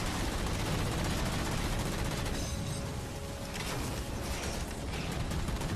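Dense, continuous gunfire from Halo 4 fills the scene, a loud sustained barrage of shots and mechanical clatter with no pauses, likely from a heavy mounted weapon.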